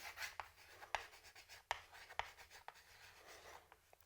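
Chalk taps and scratches on a board during a university math lecture on polar coordinates, with sharp strokes at irregular intervals, faint and close, with no talking.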